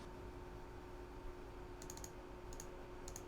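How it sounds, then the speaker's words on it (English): Rapid, furious typing on a computer keyboard, with quick bursts of faint clicking keystrokes in short clusters over a steady low background hum. "I don't even know what you're typing, but it sounds like you were doing it in a very furious manner."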